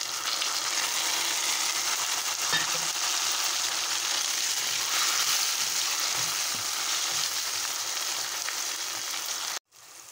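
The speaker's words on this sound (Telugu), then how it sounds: "ఆనియన్, పచ్చిమిర్చి ఫ్రై అయిన తర్వాత మనం కట్ చేసి పెట్టుకున్న టమాటా ముక్కలు వేసుకొని" Tomato pieces fry and get stirred in a pan with onion and green chili, a continuous close sizzle with soft scraping, cut off abruptly at the very end, no talking.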